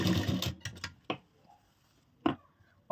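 A sewing machine stitches a folded hem on a princess-cut, deep-neck blouse, running in a short close burst at the start, followed by a few scattered clicks and knocks amid quiet.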